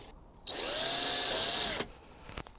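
A power drill fitted with a 5/32 bit runs for just over a second in one loud, steady burst with a high whine, then spins down to quiet.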